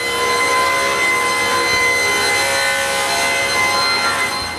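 A long 16-foot wooden board being ripped lengthwise on a saw in a workshop with the front doors open, giving a loud, steady, continuous cutting whine that holds without a break.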